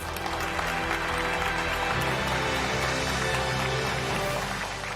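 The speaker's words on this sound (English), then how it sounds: "Some resounding applause, please, for our first 6 winners" Dense, steady applause from a large crowd at a poetry awards gala, loud and continuous throughout, with a low rumble underneath.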